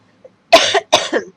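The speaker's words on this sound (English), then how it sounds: "once I started talking is when I started coughing more" Two sharp coughs in quick succession, close by, after a faint short sound; no talking.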